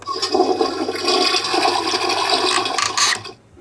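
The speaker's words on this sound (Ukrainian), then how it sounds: "І в туалеті зливається вода." A toy toilet in a Barbie dollhouse bathroom flushes after its button is pressed, giving a loud close whooshing rush of water that runs steadily for about three seconds, then cuts off abruptly.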